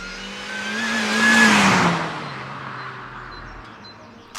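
Supercharged MINI R53 Cooper S engine pulling hard as the car accelerates, revs climbing to a loud peak with a whining supercharger tone, then easing off into a quieter drone, heard from inside with no talk.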